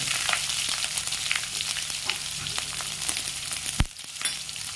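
Dried red chillies and onion frying in a pan for a Tamil ridge gourd poriyal, a steady close sizzle with light stirring clicks and a brief louder clatter near the end, no talking.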